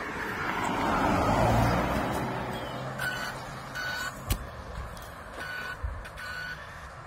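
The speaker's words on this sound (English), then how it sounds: "Wait for this car to go." An ordinary road car passes outdoors where a 1/10 Rlaarlo Omni-Terminator RC car is being run, a broad rise of tyre and engine noise that swells and then fades over several seconds, with a few sharp clicks and knocks afterwards.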